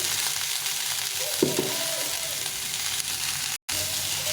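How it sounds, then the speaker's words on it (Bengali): Chopped onion frying in a pan with a steady, close sizzling hiss throughout, a brief louder crackle as it is stirred partway through, then a short drop to silence near the end; no one speaks. "পেঁয়াজে কুচি ভালো করে ভেজে নিই"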